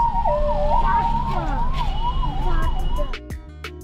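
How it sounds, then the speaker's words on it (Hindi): Ambulance sirens wail loudly through Jaipur street traffic, a rising and falling electronic tone that dominates, then fades as the vehicle passes, with car horns and road noise underneath. "ये इतनी एम्बुलेंस कहाँ जा रही है आज"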